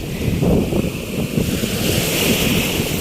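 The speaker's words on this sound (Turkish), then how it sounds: "Rüzgar da çok esiyor." Strong wind buffets the microphone on a beach, with a steady gusty roar and the wash of surf underneath and no voices.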